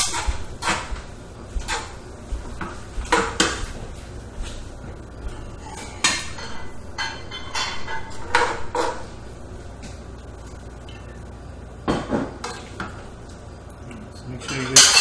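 Dishes, pots and cutlery clatter with scraping and clinking as shrimp scampi with summer squash is served over pasta for two, with some bread, in a home kitchen; the sharp knocks come in scattered bursts, close by, with someone talking at times.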